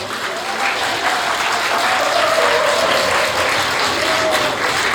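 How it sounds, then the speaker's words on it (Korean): Wedding guests at a convention centre ceremony applaud as the wedding begins, a sustained, even burst of clapping from a full hall with faint background tones beneath. "모두 축복의 박수 부탁드리겠습니다"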